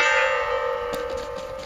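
A memorial bell at the Khatyn site rings with a sustained, resonant metallic tone that decays slowly, loud and fairly near, with faint outdoor noise beneath.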